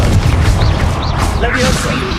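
Confringo explosive spell cast in the video game Hogwarts Legacy, loud rumbling booms and crackling blasts packed together, a heavy continuous barrage with swooshing effects on top.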